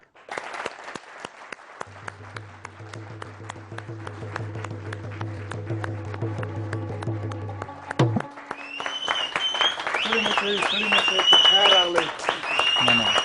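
A studio audience at a television show breaks into dense, sustained applause that swells louder toward the end. Musical tones and voices run underneath the clapping, and a presenter talks over it.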